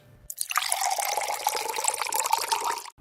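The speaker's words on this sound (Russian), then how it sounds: "Залил стакан воды." Water poured from a glass into a cooking pot with green beans, a steady close splashing pour lasting nearly three seconds before stopping abruptly.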